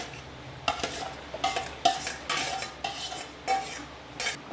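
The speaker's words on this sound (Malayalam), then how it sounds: "ഒന്ന് നന്നായിട്ട് ഇളക്കി കൊടുക്കാം" A spoon stirs beef curry with raw banana in a pot, giving a series of separate scraping, clinking strokes at an uneven rhythm, close and fairly quiet, with no talking.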